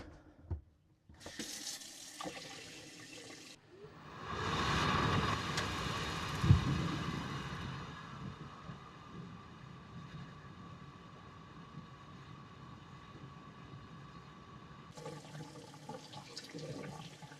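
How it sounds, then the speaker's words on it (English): A tap runs steadily with hot water from a newly installed GIDROX 55,000 BTU tankless water heater, a hissing gush that starts, swells, then continues evenly before tapering off near the end. "So turn on some hot water."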